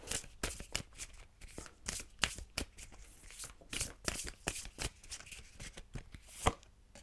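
Love oracle cards being shuffled by hand in repeated crisp riffling bursts, each flurry a dry papery flutter separated by brief pauses, close and fairly quiet with no talking.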